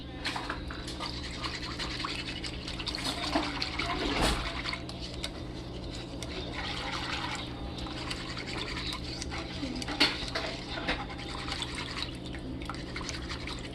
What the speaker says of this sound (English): I've been stirring my gravy